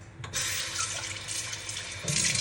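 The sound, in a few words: running tap water into a bowl to wash rice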